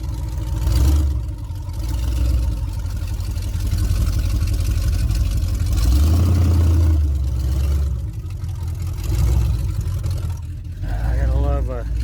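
Chevrolet Suburban engine idles with a newly fitted carburetor, a loud steady low rumble that swells and eases in places, with someone talking over it.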